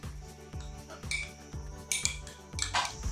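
Cumin, green chillies, garlic and turmeric are pounded in a mortar, giving a steady run of about six dull, evenly spaced thuds with bright clinks and scrapes between them, heard close up.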